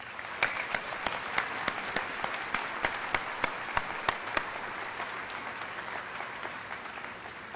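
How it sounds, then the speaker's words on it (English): A commencement ceremony audience of the College of LAE applauds, a dense wash of clapping with distinct individual claps standing out early, steady and moderately loud, then tapering slightly toward the end. "And let's give them a round of applause."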